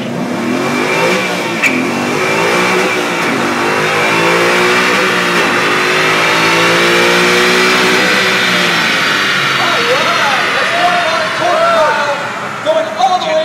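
A car at the 2011 Detroit auto show revs loudly and steadily up toward its 7,500 RPM redline, the engine tone climbing and holding for several seconds before easing off, with voices talking over it.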